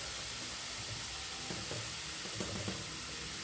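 Ivy gourd fries in hot oil in a pan, giving a steady, dense sizzle and hiss throughout with a few faint stirring clicks and no talking.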